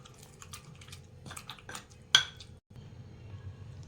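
Pestle working garlic chutney thinned with a little water in a mortar, giving soft wet scraping and clinking, with one sharper knock partway through against low background hum.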